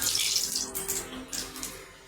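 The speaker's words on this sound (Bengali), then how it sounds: "মাছ ভাজার তেলের মধ্যে কটা জিরে দিল" Cumin seeds dropped into hot oil left over from frying boal fish sizzle with a loud, close hiss that surges and dips in bursts, then eases off slightly toward the end; no talking.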